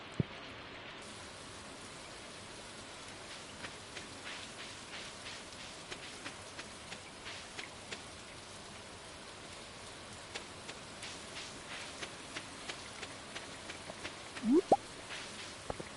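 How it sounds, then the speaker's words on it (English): Rain falls in a video game as a soft, continuous patter with scattered, slightly sharper drops, fairly faint and steady throughout, with no talking. "is there anything else that spawns during the rain?"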